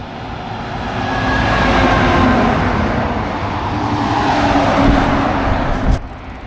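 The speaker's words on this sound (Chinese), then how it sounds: "你看这边大货车一辆又一辆。" Large trucks passing one after another on a roadside in Inner Mongolia: a loud, continuous engine and tire rumble that swells and eases as the vehicles go by, with no voices.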